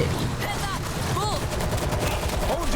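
Dense, continuous gunfire in the video game World War Z rattles nonstop, loud and close, like several automatic weapons firing at once.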